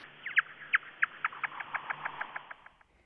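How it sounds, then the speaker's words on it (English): Rapid series of short, chirpy clicks, evenly spaced at about five per second, gradually fading and slowing slightly, with a faint low hum beneath. "The sounds bats make"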